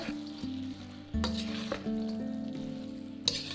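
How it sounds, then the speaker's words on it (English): Beef chow fun noodles with bean sprouts sizzle and hiss in a hot pan while being tossed, with rhythmic scraping and clanking of the utensil against metal and a steady frying crackle throughout, close and without speech. "Toss everything together and cook until it's heated through"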